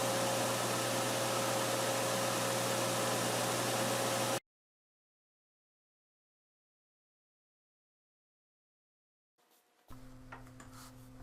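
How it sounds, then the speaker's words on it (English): An edge sander rounds over wooden discs being prepared for a vortex bowl, giving a loud, steady abrasive roar with a low motor hum for about four seconds. It stops abruptly into silence, then a quieter machine hum starts near the end. "the discs are sanded round on the edge sander"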